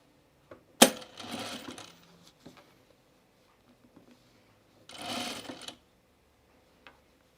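A sewing machine stitches a button placket in two short bursts of close, rapid mechanical whirring, separated by quiet pauses with occasional small clicks and a sharp knock.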